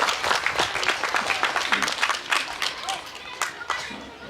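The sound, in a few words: audience applause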